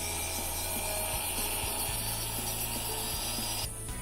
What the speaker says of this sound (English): Once I can feel the burr moving over my finger through the plastic